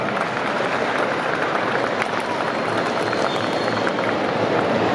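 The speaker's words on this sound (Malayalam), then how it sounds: "please give Sajid big clap" An audience at a film event applauds the film's director, giving a dense, sustained wash of clapping that holds steady throughout without pause.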